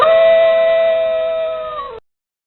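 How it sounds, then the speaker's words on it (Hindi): A wolf's howl rings out as one loud, sustained tonal call of about two seconds, steady and harmonic, then sagging slightly in pitch before it stops abruptly, with nothing else heard. "आई एम वुल्फ, मैं भेड़िया हूँ"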